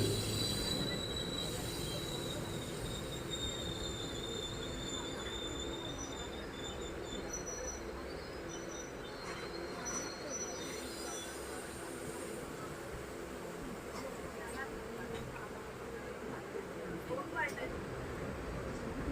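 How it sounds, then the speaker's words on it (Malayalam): Passenger train carriages rumbling along with high, thin wheel squeals early on as it departs Kottikulam station in Kerala, a steady rolling drone from inside the moving train. "നമ്മുടെ ട്രെയിൻ എങ്ങനെ അപ്പം കോട്ടിക്കുളം റെയിൽവേ സ്റ്റേഷനിൽ നിന്ന് വീണ്ടും പുറപ്പെട്ടിരിക്കുകയാണ്."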